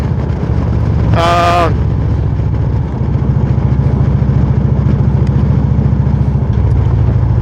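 A Suzuki motorcycle engine drones steadily during a ride past a small town outside San Antonio, with a constant low throbbing rumble and wind noise, loud and close, briefly cut by a short high tonal squeal.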